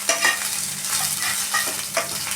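Drumstick leaves frying in hot oil while being stirred, a steady close sizzle with soft scraping strokes at a regular pace, no voices.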